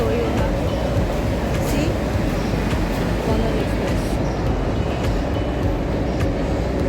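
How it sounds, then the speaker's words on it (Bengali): The Bandhan Express, the Kolkata to Khulna train, stands at a station with its engine at the front, giving off a steady, loud, continuous mechanical rumble heard close by without pause throughout. "এই হলো আমাদের বন্ধন এক্সপ্রেস সামনে রয়েছে ইঞ্জিন"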